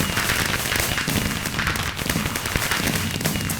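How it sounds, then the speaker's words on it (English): Fireworks burst out of a chance cube in modded Minecraft, a dense, loud, unbroken barrage of crackling pops and bangs that fills the whole stretch without pause. "What could go wrong? It's more fireworks."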